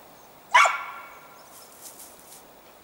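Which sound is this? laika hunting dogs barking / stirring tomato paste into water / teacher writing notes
laika hunting dogs barking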